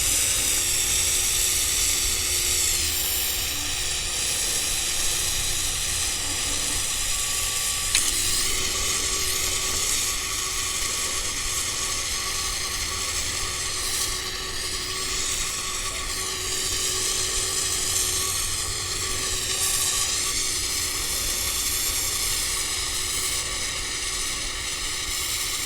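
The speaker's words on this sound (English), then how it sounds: "Get a nice flame going there." Steady broadband roar and hiss of a torch flame heating the tip of a steel chucking scraper for hardening, continuous and fairly loud with no talk.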